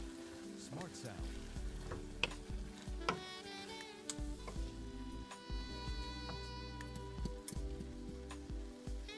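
Sweet and sour tofu sizzles steadily in a hot pan as it is stirred, a continuous close frying hiss with scraping stirs and occasional clinks of a utensil.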